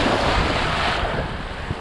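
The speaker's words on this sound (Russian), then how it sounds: "А нам еще волнишка сзади." Sea surf at an empty wild beach near Vityazevo, steady broad wash of waves close by, mixed with wind buffeting the microphone, continuous with no talk.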